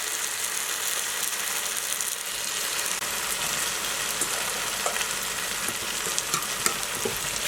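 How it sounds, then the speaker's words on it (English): Onions and scallions fry in a curry mix in a pan, a constant close sizzle with occasional scraping stir clicks and no talking. "at this point I'm going to add in my onions and my scallions again."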